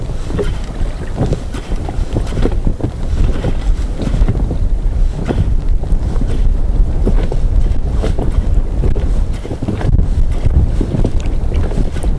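Strong wind buffets the microphone in a constant roar, gusting loudly throughout with a rough, blustery texture outdoors while pike fishing.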